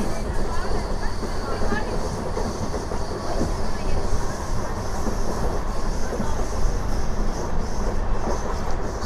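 A train runs through a long half-circle curve, giving a continuous loud rolling rumble with faint clickety-clack and a light, thin wheel whine riding on top.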